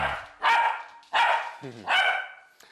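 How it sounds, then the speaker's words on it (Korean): Three loud, close barks from a pet dog ring out indoors at a steady pace, with a short whine-like yelp between the second and third. "어제의 얌전한 모습은 어디로 가고 다시 짖고 있네요."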